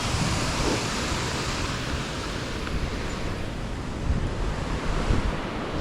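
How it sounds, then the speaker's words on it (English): River water rushes hard down over rocks in the Central Oregon backcountry, making a loud, continuous broadband roar that never lets up. Gusty wind buffets the microphone on top of it. "right there where the water's coming down, rushing down real good"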